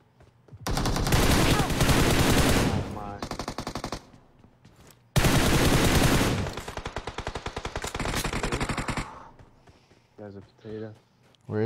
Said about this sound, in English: Somebody shot me from the UMP.